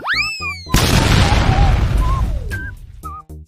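A homemade bomb blasts in a loud, sudden boom that rumbles and fades over a couple of seconds, with tonal whistles and short game-like sounds before and after.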